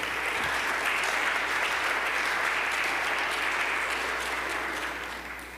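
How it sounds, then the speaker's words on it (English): A forum audience at a heritage convocation breaks into sustained, steady applause that fills the room, holding at full strength for several seconds before starting to taper off near the end. "Ladies and gentlemen, let's give our speaker another round of applause."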